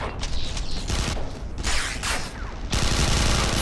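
Rapid bursts of automatic gunfire from the video game Interstellar Marines, dense overlapping shots crackling steadily and growing louder and heavier toward the end.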